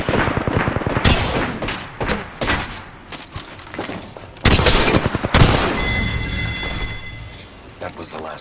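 Gunfire rings out in the Apex Legends video game: sharp bursts and rapid volleys come in irregular clusters, some loud and close, mixed with game voice lines and effects.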